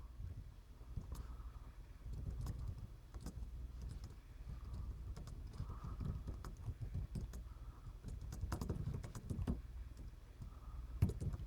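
Typing on a Logitech BLOK iPad Air 2 keyboard case: soft, irregular key taps in quick bursts, fairly quiet and close, with no talking.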